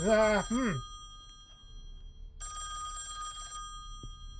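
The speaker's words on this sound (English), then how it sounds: "The phone." A telephone rings in the horror video game Song of Horror, a single bright electronic trill burst of about a second that sounds clear and fairly close, following a short vocal sound at the start.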